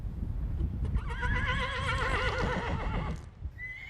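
A horse at a riding school stable in Ukraine neighs loudly and close in one long, quavering whinny, with clip-clop of hooves and stable noise around it.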